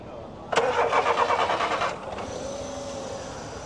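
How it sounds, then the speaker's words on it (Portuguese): A car engine cranks briefly and catches, revving up then settling into a steady idle, recorded up close. "Zé Queiroz vai dar uma partida aqui no motor para a gente escutar como ele se comporta"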